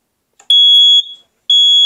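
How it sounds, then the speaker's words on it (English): A System Sensor D4120 smoke detector sounds during a test, giving loud, piercing, high-pitched tones in two bursts separated by a short gap. "So I'm going to put the key switch to sensor 1, and I'm going to test it."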